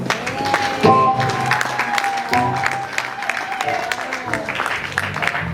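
Applause from a church congregation at a wedding ceremony, a steady wash of clapping running the whole time with voices and cheering mixed in.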